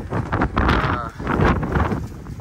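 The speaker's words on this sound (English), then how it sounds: "The wind is blowing, like, really hard." Strong outdoor wind gusts buffet the microphone in a steady roaring rush that swells and dips, with a brief lull midway, while a voice talks over it.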